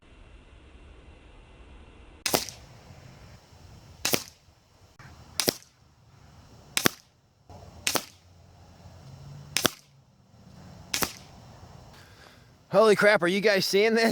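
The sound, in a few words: Ataman AP16 PCP air pistol shots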